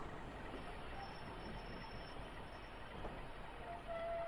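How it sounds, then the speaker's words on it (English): A train in a simulator game rolls slowly toward a stop at Newton Abbot, giving a steady low rumble with a faint high wheel squeal that holds throughout. "I'm going to let the train ease down on its own"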